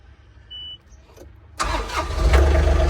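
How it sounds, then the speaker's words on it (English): An old tractor engine cranks and catches, a brief click and starter sounds followed by a sudden loud rumbling start that settles into a close, throbbing idle. "All right, let's get the old tractor started up."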